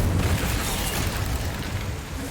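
The Incendio fire spell goes off in a Harry Potter video game, a dense roaring whoosh of flame that stays loud and unbroken for a couple of seconds.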